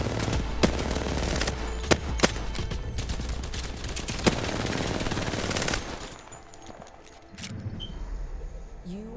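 Rapid automatic gunfire from the video game Apex Legends, with sharp loud shot peaks, runs steadily for about six seconds, then fades into quieter game ambience with brief mechanical clicks of reloading.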